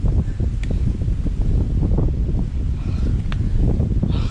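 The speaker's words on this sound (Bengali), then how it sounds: "ঠান্ডা একটা বাতাস।" Cool wind gusts steadily across the microphone on a narrow trekking path near Damtua waterfall, Alikadam, Bandarban, with a constant low rumble and faint rustling, no voices.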